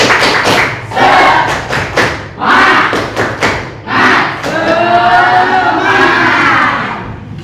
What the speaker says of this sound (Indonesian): Oke, kita tepuk semangat bareng-bareng.